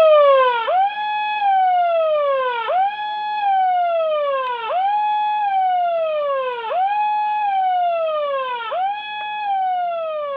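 A loud security siren wails in repeated rising-and-falling cycles about every two seconds, sounded to chase a leopard off the Srivari Mettu footpath at Tirumala, with nothing else audible.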